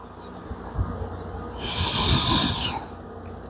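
Deep breathing during a gentle yoga flow, heard close as a slow, airy, rasping exhale that swells and fades over a couple of seconds.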